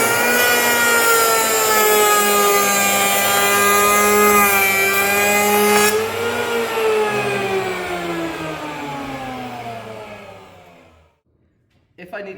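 An electric hand plane whines loudly as it shaves wood, a steady high motor tone with a cutting rasp, easing off and spinning down toward the end into near silence.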